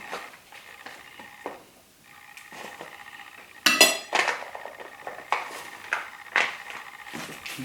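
Backpacking chicken curry scooped onto a plate, a series of close clinks and scrapes of cutlery against dishware, quiet at first and then a sharper cluster of knocks, with no talking.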